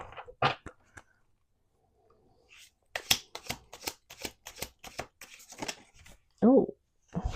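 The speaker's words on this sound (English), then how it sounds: "Let's do one more shuffle." Playing cards are shuffled at a table in a quick burst of crisp riffling and snapping, close and clear, with brief talk at the start and end.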